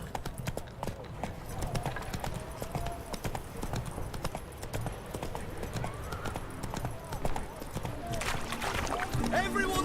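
Roach, the horse in the video game Witcher 3, gallops with a continuous rapid clip-clop of hooves under background game audio, with a brief whinny near the end.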